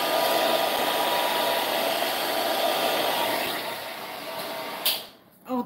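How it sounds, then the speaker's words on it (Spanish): Edges of a craft box made from napkins and cardboard are sanded with a small power sander, a steady whirring drone that runs continuously before dropping off and stopping near the end. "Y terminamos lijando"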